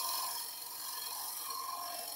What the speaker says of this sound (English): So oval skew. I can shear scrape.